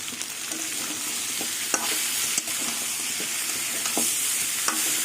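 A steady, bright sizzle of mango with turmeric frying in a pan for pickle, with occasional light scrapes and taps of stirring, close by.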